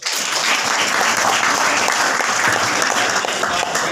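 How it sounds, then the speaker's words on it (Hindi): Loud, continuous applause rises from an audience at the end of a speech, with thick, even clapping filling the whole short stretch. "तालियां बजाएं।"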